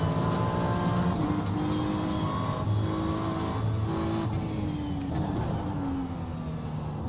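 Engines of several race cars in an iRacing simulation, among them a blue Audi, drone and shift through rising and falling pitches in a dense, continuous pack with tyre noise. The sound stays loud throughout, with no talk.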